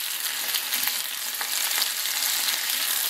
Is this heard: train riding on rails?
no